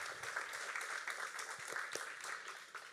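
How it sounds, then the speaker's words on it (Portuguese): A church congregation claps and applauds after a sermon, a dense, steady wash of many hands sustained for the full three seconds with no voices over it. "Aplauda o nome do Senhor por essa palavra"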